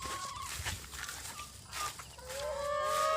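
Rhode Island Red and other chickens clucking and a rooster-like crow close by during morning feeding, with scattered squawks and calls over a faint farmyard background.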